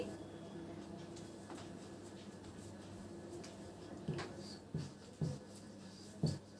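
Pen writing on paper during a Bengali literature lesson, faint steady scratching strokes with a few louder taps and scrapes near the end, no talk.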